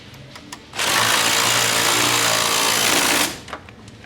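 A power tool whirs steadily for about two and a half seconds while bolts are tightened during a Thumper Fab nerf rail install on a Tracker 800SX, starting and stopping abruptly, loud and close with no talk.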